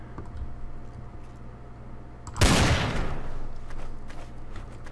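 A single loud burst of gunfire in the Trouble in Terrorist Town video game, a sharp crack at close range followed by a decaying noisy tail with faint ticking afterward.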